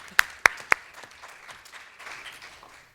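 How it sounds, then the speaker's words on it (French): Three sharp, loud hand claps ring out at the FUTURE Days 2019 Grand Prix awards ceremony, followed by faint, scattered applause trailing off in the background. "Je crois qu'on peut déjà l'applaudir."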